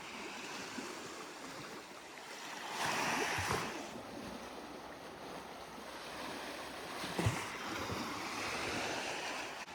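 Waves washing onto a Lake Superior beach at Pictured Rocks National Lakeshore, a steady surf wash with two louder breaking swells and light wind rumble, no voices.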